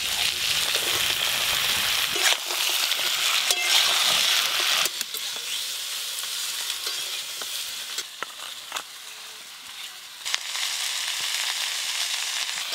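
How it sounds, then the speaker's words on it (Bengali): Mixed vegetables and bottle gourd greens frying in a pan with spices and dried chilli, a loud sizzle at first that settles into a softer, steady frying hiss, broken by occasional stirring clicks and scrapes. "লাউ শাকের সঙ্গে সব সবজিগুলো ভালো করে ভেজে নিয়েছি।"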